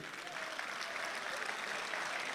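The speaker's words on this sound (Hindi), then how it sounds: "एक बार जोरदार तालियां बजाइए।" A mushaira audience at an Aligarh poetry gathering in Dubai applauds, a steady wash of clapping filling the hall for about two seconds, fairly soft and distant.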